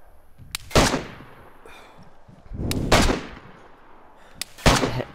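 Gunfire in a video game shooter, three separate loud, close bursts spaced about two seconds apart, each a sharp crack followed by a short ringing tail, with quiet between.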